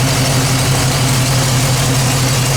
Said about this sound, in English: Motor runs nice and smooth as well.